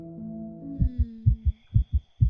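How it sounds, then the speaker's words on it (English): A pounding heartbeat sound effect, low thumping beats in quick pairs, loud and close, rising out of a sustained low hum that fades as the throbbing takes over. "With my heart pounding in my ears"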